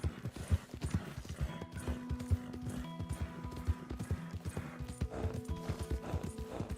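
Horse hooves clip-clop steadily in Red Dead Redemption 2, a close, even rhythm of hoof strikes with a low tonal hum underneath and no voices.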